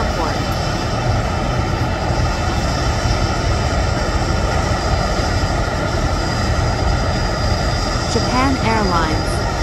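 Japan Airlines jet aircraft at Osaka Itami Airport, a continuous loud engine roar and whine holding steady throughout, with a brief chirp of another sound near the end.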